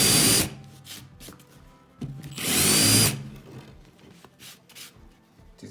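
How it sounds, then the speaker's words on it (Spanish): A countersink bit bores into wood in two loud whirring bursts, each about half a second to a second long, separated by quieter handling sounds. "que se le conoce como avellanado, una avellanadora"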